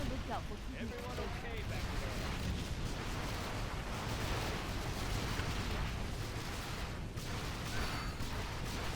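Units in C&C Zero Hour firing on a GLA building, with a steady dense barrage of gunfire and explosions rumbling throughout while someone talks over it.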